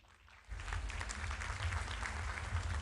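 A live comedy audience breaks into applause after a brief quiet start, a steady close clapping that builds and holds to the end.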